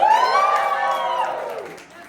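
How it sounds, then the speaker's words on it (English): An audience at a live holiday show cheers and whoops loudly, with a rising and falling shout from the crowd that fades at the end. "here's the really fun one, biggest cheer of the night"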